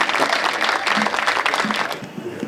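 An audience at a Hindi comic poetry gathering claps to welcome the poet, a lively, full round of applause that eases slightly toward the end.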